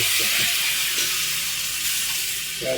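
Water is poured into a hot pan of pepper garlic chicken with butter and chili, producing a steady, loud steamy hiss that holds throughout, with no voices.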